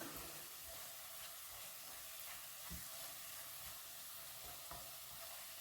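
Ghee sizzling and frying briefly in a spicy chilli spice mix in a pan, a steady close crackling hiss with a few soft stirring knocks, no voices.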